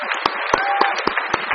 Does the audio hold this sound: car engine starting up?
no